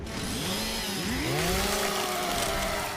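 A chainsaw from the Gears of War shooter, a harsh buzzing engine whose pitch sweeps up and down as it revs and bites through enemy drones, loud and continuous with no talk.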